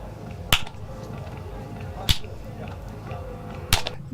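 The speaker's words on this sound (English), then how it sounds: "Start the sitting with 3 claps, 1, 2, 3, and finish with 3 claps" Three sharp hand claps spaced evenly about a second and a half apart open a Zen meditation sitting at a festival, each crisp and close over a low background murmur.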